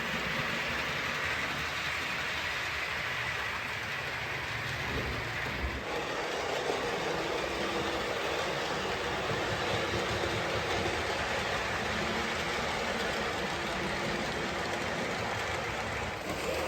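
A model train running past on a model railway layout, a loud, continuous rumbling roll with faint rail clatter that swells and carries on steadily close by, with no talking.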